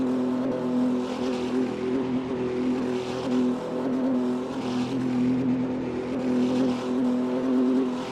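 GT3 race cars idle and rumble through the pit lane during a round of the Winter GT3 Championship, a steady, dense engine drone with a sustained hum and no breaks.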